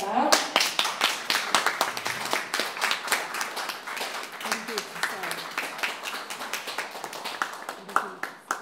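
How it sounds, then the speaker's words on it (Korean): An audience applauds warmly to welcome a guitarist. The clapping is dense and continuous, loud and close, and it carries on for several seconds with voices faintly mixed in. "뜨거운 박수로 환영해 주시길 바랍니다."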